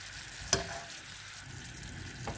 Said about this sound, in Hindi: ये पैन में हमने बटर डाला है और अब हम इसमें डालेंगे वाइट फ्लोर